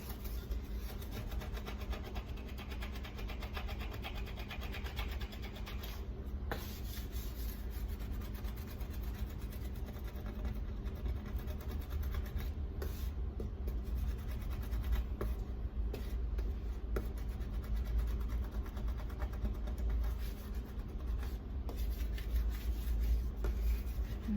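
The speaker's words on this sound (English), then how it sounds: "It's like there's crunchiness there when you are scrubbing it." Continuous gritty scrubbing on a glass stovetop, a steady rasping scratch that goes on without pause, fairly quiet and close.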